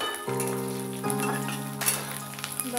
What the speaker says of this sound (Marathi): आता त्याच कढईमध्ये थोडंसं मी तेल टाकलेलं आहे आणि त्याच्यामध्ये थोडंसं लसूण टाकून मी आता भाजून घेते